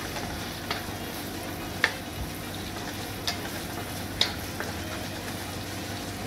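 Garlic and onion frying in margarine for chicken tostadas, a continuous loud close sizzle with a few sharp pops and light stirring scrapes.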